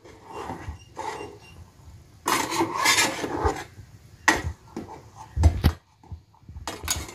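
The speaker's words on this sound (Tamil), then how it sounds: "இப்ப நல்லா ஒன்னு சேர கலந்து விட்டுக்கணும்." A spoon scrapes and rasps through a thick pot of cooked rice, lentils and jaggery for sweet pongal, with irregular close-up stirring strokes and louder bursts of scraping; no one speaks.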